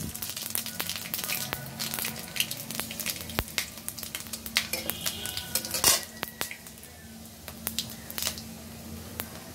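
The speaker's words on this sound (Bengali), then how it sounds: "আমি ফোড়ন দিব শুকনো মরিচ আর পাঁচফোড়ন" Dry red chilies and five-spice seeds hit hot oil during a vegetarian papaya curry, giving a crackling sizzle broken by sharp metallic clinks of a utensil against the pan, fairly close, with no talking.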